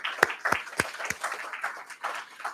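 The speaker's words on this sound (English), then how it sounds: "So let's give her another round of applause." Applause at a Sunday church service: a few sharp, close claps stand out over softer scattered clapping from the congregation, brief and fairly faint.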